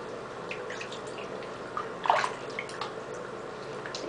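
A tiny animal being bathed in a small tub makes soft water sounds, a faint steady wash with light drips and one brief, close splash midway.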